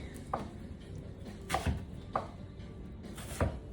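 Knife chopping an onion on a cutting board, four spaced, fairly soft thuds at an unhurried pace, close by with quiet room background.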